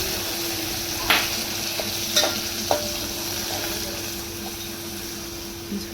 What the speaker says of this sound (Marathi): आता टाकले लसूण तेजपत्ता लसूण पण करपला तेल कर आता मिरची टाकला